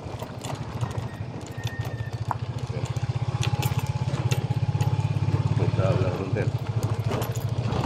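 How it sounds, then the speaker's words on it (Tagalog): A motorcycle engine runs close by on a road near a transport terminal, its steady low putter swelling and then fading. Voices sound faintly in the background. "Ang motor ah."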